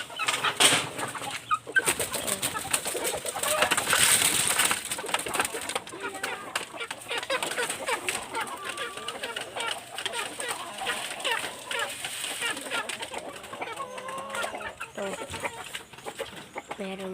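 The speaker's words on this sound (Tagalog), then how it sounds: "Ito pa, may mga sisiw." Backyard chickens and chicks cluck and chirp together in a busy, continuous chorus, with bursts of calls layered over one another and someone talking now and then.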